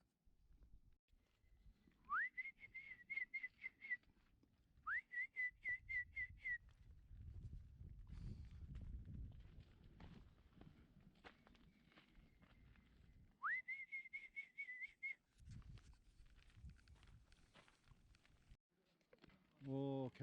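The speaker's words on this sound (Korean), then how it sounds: "휘파람 새소리." A Korean bush warbler sings in a forest on Inwangsan: three clear whistled phrases, each a rising note ending in a quick trill, spaced apart. Footsteps and rustling on the trail fill the gaps between phrases.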